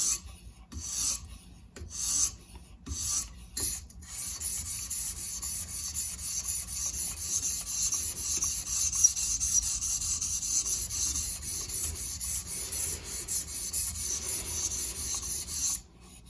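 A knife is sharpened on coarse whetstones, giving a continuous close, gritty scraping, with a few separate strokes at first before it settles into long, even grinding.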